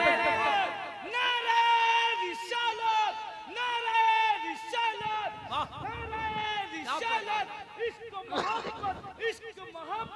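A crowd at a religious speech gathering in Odisha shouts back in response to a Nara-e-Takbeer call, in loud, overlapping bursts of many voices rising and falling over about ten seconds.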